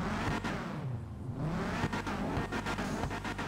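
Subaru engine sound mod for a car in GTA 5: a steady, buzzy engine roar that dips briefly and then revs back up, close and uninterrupted.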